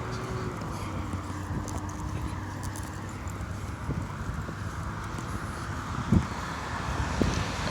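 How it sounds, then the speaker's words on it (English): Steady outdoor wind noise with a broad low rumble throughout, plus a couple of brief knocks near the end. "you could probably hear the wind. It's a little windy."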